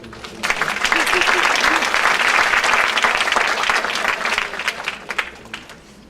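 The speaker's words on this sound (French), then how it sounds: "On peut l'applaudir." A hall audience applauds to welcome a doctor arriving to speak at an association event, loud dense clapping that swells after a quiet start and fades in scattered claps at the end.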